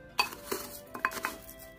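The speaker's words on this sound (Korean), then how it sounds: "소금하고 설탕하고 섞어줍니다." Coarse sea salt and sugar are mixed in a bowl for Korean cucumber pickles (oiji). A few close, light clinks and scrapes come in short bursts against a quiet background.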